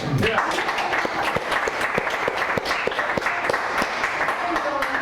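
Audience applause for Roy Suskin, the building manager of the Woolworth Building, during a lecture: a dense, steady roar of many hands clapping for about five seconds, close and loud, with some sharp individual claps standing out.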